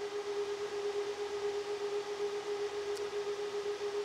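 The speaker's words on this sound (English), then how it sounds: "That's the sound once they've started up and they've ramped down to their idle speed." Supermicro 45-bay JBOD disk shelf cooling fans idling after ramping down, giving a steady, even whir with a constant tonal hum and no pauses.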